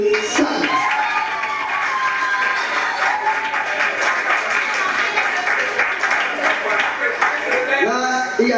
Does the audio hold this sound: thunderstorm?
no